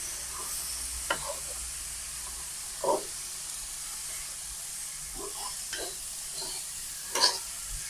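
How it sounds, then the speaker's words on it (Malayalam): Papaya curry being stirred in a frying pan after salt is added, a soft continuous sizzle and hiss with occasional scraping strokes of the spoon, close and fairly quiet, no speech. "ആവശ്യത്തിനുള്ള ഉപ്പ് നമ്മൾ ചേർത്ത് കൊടുക്കാം. എന്നിട്ട് നമുക്ക് നന്നായിട്ട് ഇളക്കി കൊടുക്കാം."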